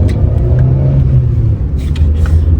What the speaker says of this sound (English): And when you really like rev out the engine